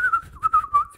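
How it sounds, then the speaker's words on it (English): Someone whistling a clear, bright melody with a wavering vibrato, several sustained notes rising and falling in a steady phrase, heard alone and fairly loud. "He's got a nice vibrato in his whistle."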